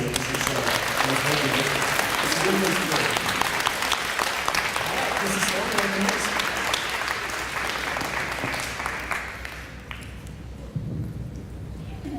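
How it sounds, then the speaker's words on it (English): An audience at a community charter school ceremony applauds the congratulated students in a sustained dense wash of clapping, with voices murmuring beneath it, tapering off toward the end. "Give a round of applause to"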